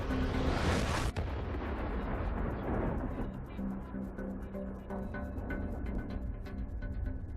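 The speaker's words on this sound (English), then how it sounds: "An explosion sends a stream of molten copper cutting through the steel." A shaped charge detonates against a steel column, a sharp loud blast followed by a long rumbling, crackling decay with scattered small pops as debris settles.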